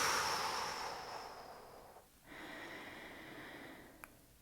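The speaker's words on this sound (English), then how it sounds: "And then exhale." A slow, audible exhale during a yoga session, soft breathy air fading out over about two seconds, then quiet breathing and a faint tick, close and gentle.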